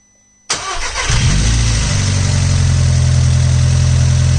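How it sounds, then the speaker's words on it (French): A rebuilt Audi 1.8T 20-valve turbo engine fires up for its first start, a short crank catching quickly into a loud, steady, close-up idle that holds without stumbling. "Bon les gars, premier démarrage, on croise les doigts."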